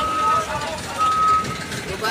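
A truck's reversing alarm beeps at Pasar Induk Tanah Tinggi wholesale market in Tangerang, giving long steady tones with a gap between them, heard through background market noise and a voice speaking over it.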